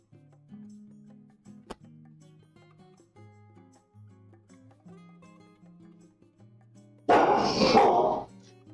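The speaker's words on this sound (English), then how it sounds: "Shut up, dog." A pet guard dog lets out one loud, sharp burst of barking near the end, breaking a quiet stretch of low background hum.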